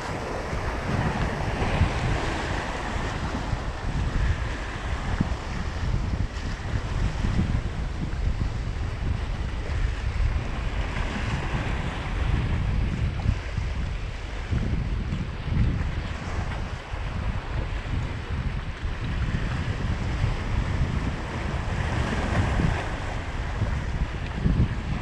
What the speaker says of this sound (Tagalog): Makikita nyo, maalon pa rin.